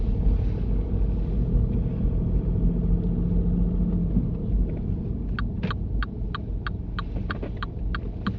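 A car drives forward into a parking bay during a driving test, heard from inside as a low, steady engine rumble and cabin hum, with a run of rhythmic ticking clicks, like an indicator, in the later seconds.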